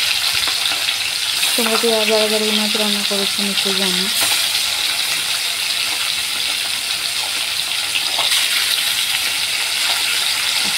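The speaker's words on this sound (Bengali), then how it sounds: "আস্তে করে একটু দিয়ে দিলাম তেলের মধ্যে ঠিক করে, যাতে সব মাছগুলো ভালো করে ভাজা হয়" Fish frying in oil in a pan gives a steady, close sizzle that runs the whole time, with a brief squealing tone early on while a person talks over it.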